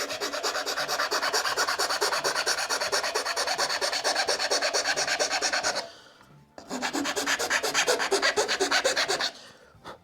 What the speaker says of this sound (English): while filing, I am holding it at a slight angle going inward